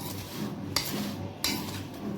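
A spoon scrapes and stirs a dry mix of semolina, flour, sugar and baking powder in a bowl for basbousa, with soft gritty swishes and a couple of sharper clinks against the bowl, close and alone.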